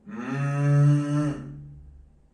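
A human voice imitating a cow, one long drawn-out low moo that swells and then fades, clear and close with no other sound.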